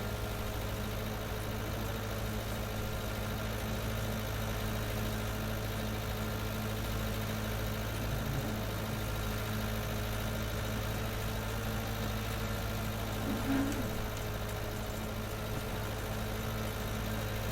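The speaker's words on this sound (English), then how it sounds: "Sort of tractor you'd have chucked on the feeder wagon on the dairy farm these days." Tractor engine idling in Farming Simulator on a Geiselsberg dairy-farm map, a steady low mechanical hum with faint vibration, continuous and even throughout with no talk.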